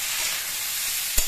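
Onions fry in a pan for a methi matar malai sabzi, giving off a steady, close hiss of sizzling oil, broken near the end by one sharp utensil tap.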